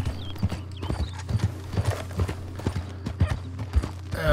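Horse hooves clip-clop at a walking pace in the video game Red Dead Redemption 2, a regular rhythm of distinct hoofbeats, moderately close, with no talk.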